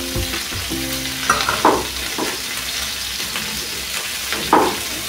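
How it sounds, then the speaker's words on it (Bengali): Vegetables with ridge gourd, potato, soybean, tomato and slit green chillies fry in a pan for a village-style navaratna khichuri, with a steady close sizzle and a few scraping stirs, no talk. "আর এর মধ্যে আমি কাঁচা লঙ্কা চেরাগুলো দিয়ে দিলাম, একসঙ্গে ভেজে নেবো।"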